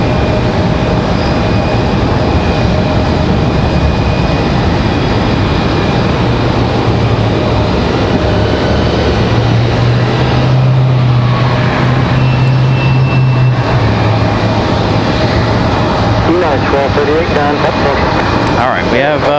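An airliner departing Raleigh Durham airport, a loud, continuous broadband roar that swells and shifts over many seconds. A voice is heard talking over it.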